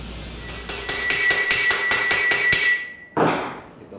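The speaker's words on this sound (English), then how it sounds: "Now we'll go over to the pipe anvil and start actually forming this thing." Metal taillight part for a 1954 Chevrolet struck with a hammer on a pipe anvil: about ten sharp, evenly spaced ringing blows, close and loud, followed by one heavier clank, with no talk.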